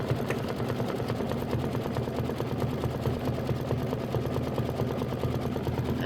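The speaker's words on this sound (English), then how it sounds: "we're going to satin stitch the left side of the heart" An embroidery machine satin stitches the left side of a heart quilt block in cool mint thread, making a steady, fast, even mechanical whir with a continuous rhythmic needle patter throughout.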